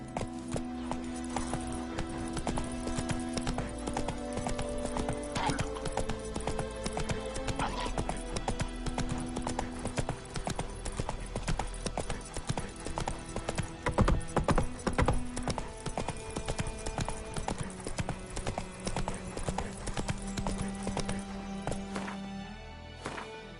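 Roach, a horse in The Witcher 3 video game, gallops at length with a rapid, continuous clip-clop of hooves, close and prominent over busy game music, with a brief whinny partway through.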